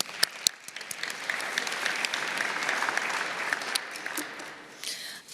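Audience at a child-rights-in-sport forum gives a round of applause. Scattered first claps swell into steady clapping, then thin out to a few last claps.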